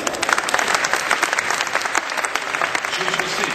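A conference audience at the DMEXCO 2011 debate applauds as a panelist takes the stage, steady dense clapping filling the hall for several seconds while a voice speaks over it.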